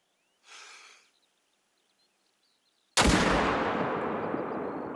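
A single sharp, loud report from an Eckers .30-06 rifle in the hunting game theHunter: Call of the Wild, with a long decaying rumble trailing after it; a brief soft rustle comes a few seconds before.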